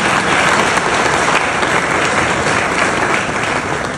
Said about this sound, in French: Est-ce que vous pouvez applaudir pour les maîtres de la pluie du Togo?